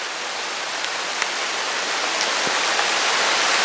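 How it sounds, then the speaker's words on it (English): Dense, steady hiss of rain falling all around in the Georgia woods, with a few faint drips and taps standing out. "Now, as soon as I say something about rain, it starts raining."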